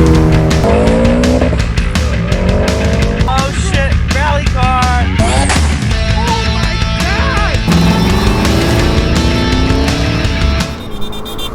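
A Ford Focus RS MK3 fitted with a GFB DV+ diverter valve revs loudly and close, its engine note climbing and dropping repeatedly in quick sweeps without a pause.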